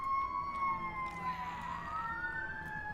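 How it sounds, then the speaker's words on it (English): An ambulance siren wails outside, its rising and falling tones sweeping steadily and loudly over a low traffic rumble, with no talking. "Oh, there's an ambulance outside."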